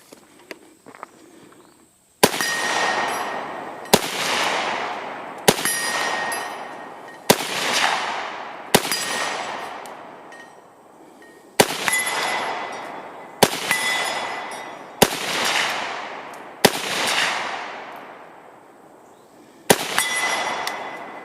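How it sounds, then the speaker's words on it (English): Ten 7.62x39 rifle shots ring out one after another, each sharp crack followed by a long decaying echo as steel targets are hit, spaced roughly two seconds apart at an outdoor range. "that's 5 shots on the right, 5 shots on the left."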